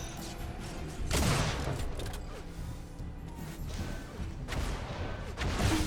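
In an Unreal Tournament match, flak cannon blasts boom out as two heavy, crunching bursts amid dense, noisy game action, with no voices.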